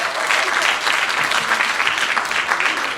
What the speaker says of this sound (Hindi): जोरदार तालियों से आप सभी से निवेदन करते हैं